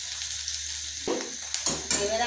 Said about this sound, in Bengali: পেঁয়াজটা আমি একটু লাল লাল করে ভেজে নিচ্ছি